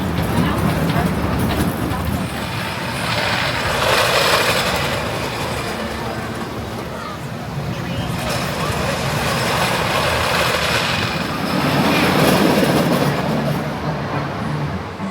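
A ride on the Kentucky Flyer, a Gravity Group wooden roller coaster at Kentucky Kingdom: loud continuous rumbling and wind roar with swelling surges, with voices mixed into the noise.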